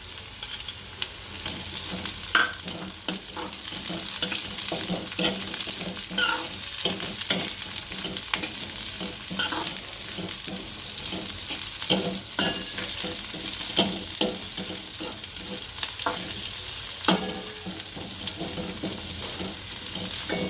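Capsicum stir-frying for noodles made from roti gives a continuous close sizzle, with repeated sharp scrapes and knocks of a spatula against the pan. No voices are present.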